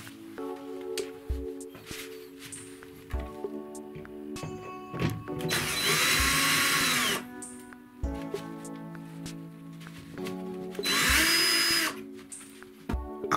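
A power drill bores a hole into the metal shaft of an old office chair in two loud, sustained whining bursts, with quieter bumps and handling noises between them and no talking.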